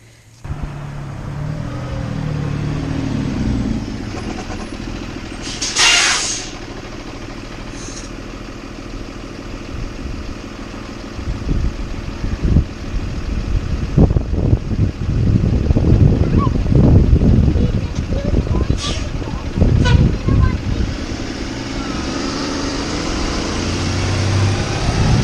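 A school bus rumbles in and sits idling outside a home, a low steady engine drone with intermittent clunks and rattles, while people talk nearby.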